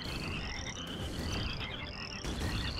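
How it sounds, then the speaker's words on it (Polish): Jumping frogs croak in the Shellshock Live video game, a steady run of close, loud croaks with bright chirping calls over a busy game background, no talking. "Żaby jakieś skaczące."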